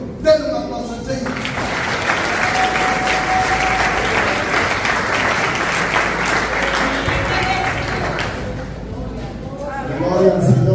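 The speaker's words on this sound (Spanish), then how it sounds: "Denle un aplauso al Señor." A church congregation breaks into sustained applause during a Spanish-language service, dense clapping holding steady for several seconds before fading as voices return.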